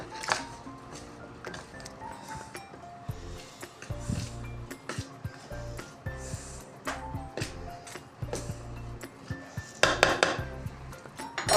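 Kachori dough of flour and salt is mixed in a bowl for chicken kachori, with repeated light clinks and scrapes against the bowl and soft tones in the background.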